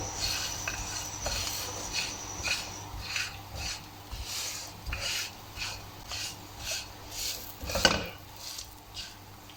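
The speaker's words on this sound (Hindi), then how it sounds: "लो फ्लेम ऑन करके मसाला ऐड करेंगे।" Masala being stirred and scraped into chicken karahi in a pan over a low flame, with steady rasping, rubbing strokes of a utensil against metal and one sharper clatter near the end.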